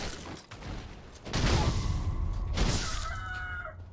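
A rooster crows twice in the video game Sekiro, the calls fairly loud and drawn out over a background of low ambient rumble, with a brief clattering burst between them.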